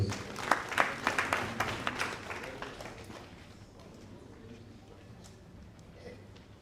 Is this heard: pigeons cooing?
no